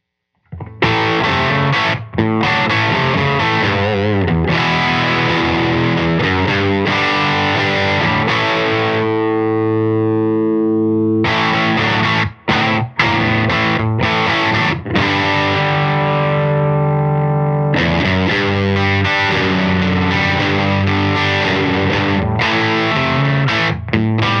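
Heavily distorted electric guitar through a Science Amps Mother preamp pedal with the mids raised, playing loud riffs and sustained chords, with a brief quieter ringing passage midway before the crunchy playing resumes.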